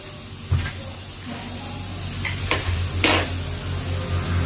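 A pot of banana stem and cinnamon mixture at a rolling boil, bubbling and hissing steadily throughout with a few brief clatters of a spoon or lid, no talking.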